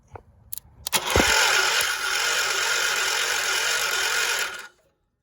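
The starter motor on a John Deere 216 lawn tractor cranks the engine in a steady whirring grind for about three and a half seconds, after a few clicks and clunks, then stops abruptly into silence.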